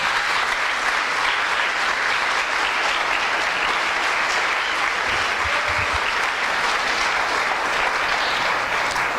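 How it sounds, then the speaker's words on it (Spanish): Sustained applause from a church congregation, steady dense clapping that fills the whole stretch at an even, loud level with no talk over it. "Yo de usted le daría un fuerte aplauso al Señor."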